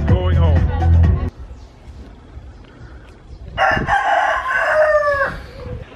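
Roosters crowing loudly and close by on a morning in Vidigal, Rio de Janeiro, with a long crow at the start and another drawn-out crow later over quieter background ambience.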